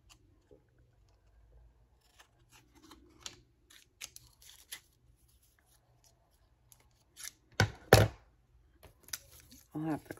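Scissors snip paper for a junk journal in a quiet craft space: scattered small clicks and snips, then a few louder sharp cuts and rustles near the end, close and fairly faint overall.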